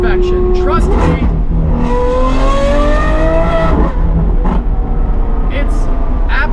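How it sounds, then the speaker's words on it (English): A Lamborghini Aventador SVJ V12 with a Gintani F1 exhaust pulls hard nearby, a loud rising wail sweeping up through the gears before easing off, with voices talking over the engine. "this is the exact sound a Lamborghini V12 should have"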